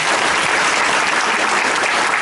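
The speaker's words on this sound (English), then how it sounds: "let's give them another round of applause" A loud, dense round of applause rings out at a jazz institute performance, continuous close clapping from a crowd with no break across the short stretch.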